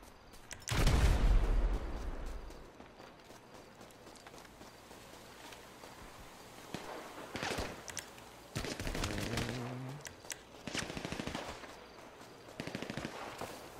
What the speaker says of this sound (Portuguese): Olha que tiro! De perto essa metralhadora de combate.